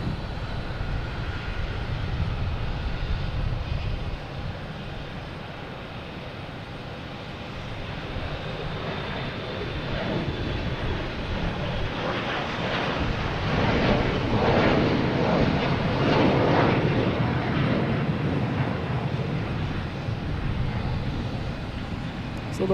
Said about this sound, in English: Next to take off is Delta, E175, heading to Pittsburgh.